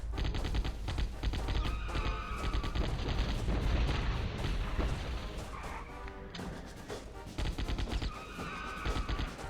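Dense, rapid AK rifle fire in a Die Hard video game, loud and sustained bursts with crashing impacts, continuing in heavy volleys with brief pauses.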